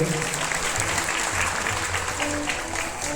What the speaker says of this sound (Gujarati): નિર્મળાબાને તાળીથી વધાવી લ્યો.